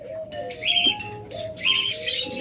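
An albino and pied blue mask pair of pet birds in a breeding setup chirp in close, repeated bright calls, with overlapping tweets and short whistled notes.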